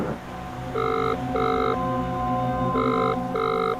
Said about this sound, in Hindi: कमल बनकर इस फोन से कल्लू को फोन करो, देखते हैं क्या कहता है। तो स्पीकर ऑन रखना